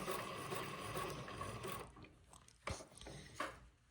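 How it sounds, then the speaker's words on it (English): An Elna 9000 sewing machine set to slow speed stitches tucks with a center feed dog, giving a steady mechanical whir for nearly two seconds, then a few separate clicks and taps at close range. "I'm gonna have a lot better luck sewing tucks from here on in, having that center feed dog on this Elna 9000 sewing machine"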